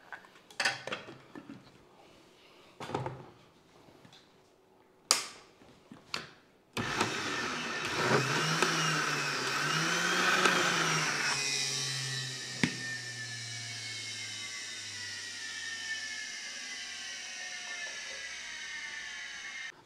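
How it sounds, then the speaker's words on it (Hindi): Dal is ground in the jar of a juicer-grinder. A few knocks and clunks come first, then the motor starts up loud and whirs steadily at close range, its pitch wavering slightly before it winds down and keeps humming. "जूसर वाला जग ले लेंगे, इसके अंदर हम पवे की मदद से दाल डाल के दाल को ग्राइंड करेंगे।"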